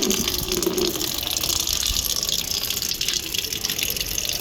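Water gushes steadily from a tap on a rooftop for watering plants, a constant close rushing splash with no voices.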